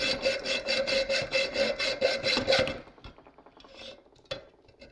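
A blade saws back and forth through a rubber engine mount bushing in repeated rhythmic strokes at close range, then stops and gives way to a few scattered scrapes and knocks.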